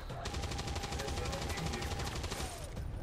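Rapid automatic gunfire from the XCOM 2 video game, a steady dense burst of repeated shots lasting about two seconds over a constant game background, loud and continuous.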